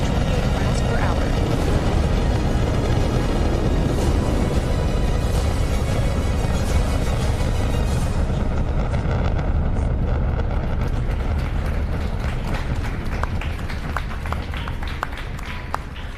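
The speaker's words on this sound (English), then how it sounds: "All 4 RS-25 engines on the first stage and 2 solid rocket boosters now propelling the vehicle at 128 miles per hour." Rocket launch with four RS-25 first-stage engines and two solid rocket boosters, heard as a loud, continuous broadband roar that slowly thins over about sixteen seconds.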